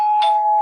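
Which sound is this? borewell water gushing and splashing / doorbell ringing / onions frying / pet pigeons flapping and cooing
doorbell ringing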